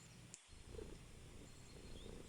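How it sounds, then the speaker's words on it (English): A cat purring close by, a steady low rumbling hum that runs continuously, briefly interrupted by a soft bump near the start. "she is purring super loud"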